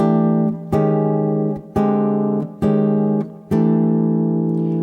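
Four sustained guitar chords harmonized in fourths ring out one after another, each struck cleanly, with the lower three notes moving down by half steps while the highest note stays fixed.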